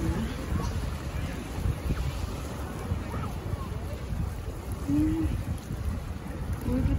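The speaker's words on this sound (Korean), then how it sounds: "바다 소리도 좋고" Ocean surf at Malibu Lagoon State Beach in California rushes and rumbles as a steady, moderately close wash of waves mixed with wind buffeting the microphone, with no talking.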